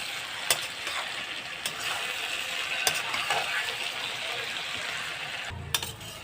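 Taro stolons and dried fish hiss steadily as they are stirred in a frying pan, with a few sharp clinks of the utensil against the pan.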